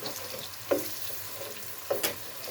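Tomato paste fries with onions and carrots in a pan for a leek dish, giving a steady close sizzle broken by two brief stirring scrapes.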